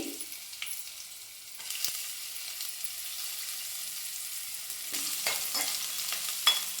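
Chopped garlic and ginger frying in a pan, a soft steady sizzle with occasional sharper clinks and scrapes of stirring near the end, no voices.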